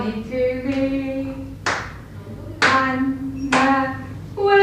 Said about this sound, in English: Anna Wilson can clap today.